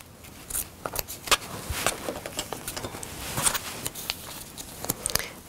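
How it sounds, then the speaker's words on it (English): Scissors make small, irregular snips close by as paper is trimmed for a paper-pieced quilt block. The sharp, quiet clicks come in uneven bursts with no talking. "A little snip in here, it's catching."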